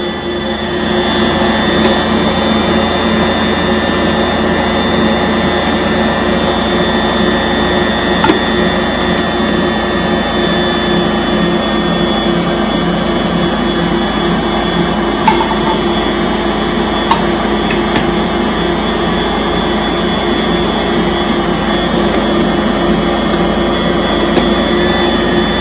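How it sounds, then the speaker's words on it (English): A kitchen stand mixer works flour into bread dough at speed 2, a loud, continuous motor whir with a steady mechanical drone and faint periodic thumps, and no voices. "we're gonna crank up our machine to 2, and we're gonna let it knead"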